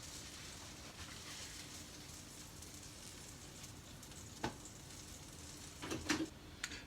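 A grilled cheese sandwich sizzles steadily in a pan, a soft continuous frying hiss with a few brief clicks and scrapes near the end, no talking.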